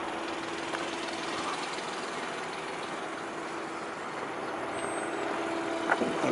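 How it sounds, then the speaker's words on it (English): A Volkswagen Touareg Hybrid's V6 petrol engine, bonnet open, runs with a steady, low, quiet hum throughout, with faint mechanical ticking and a brief clank near the end. "there's the engine, V6 petrol engine, hybrid, running at the moment, very quiet"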